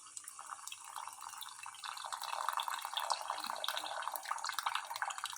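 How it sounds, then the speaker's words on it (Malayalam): Tamarind water poured into a pot of Kerala-style yam curry, a continuous trickling, splashing stream close by that grows slightly fuller toward the end, with no talk. "അത് ചേർക്കാൻ പോകും. പുളി വെള്ളം"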